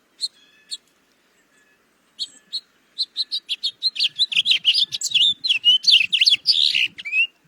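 House finch song plays from a recording, starting with a few sparse chirps and building into a fast, warbling run of bright notes. There is no talking.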